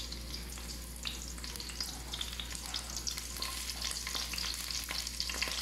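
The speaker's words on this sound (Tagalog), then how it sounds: "Igisa ko lang po ito. Pababrown ko po siya." Garlic sautéing and browning in a pan for garlic rice: a steady, close crackling sizzle with light stirring scrapes throughout, no voices.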